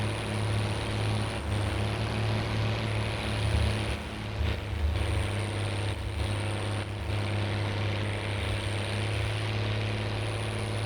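A 260 horsepower MB Trac tractor in Farming Simulator 19 pulls a baler under load, its engine a steady, continuous low drone with a constant high whine, running near and evenly throughout with no talk.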